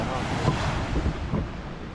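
Sea waves wash onto the shore at Weihai, China, a continuous broad rush of surf mixed with wind buffeting the microphone, with someone talking over it.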